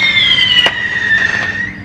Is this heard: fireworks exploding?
yes